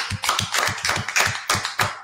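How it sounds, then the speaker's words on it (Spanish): A small group claps in a steady unison rhythm at the close of a Spanish television programme, about a dozen evenly spaced beats, near and fairly loud with no talking. "Vamos a darle un aplauso a tu casa"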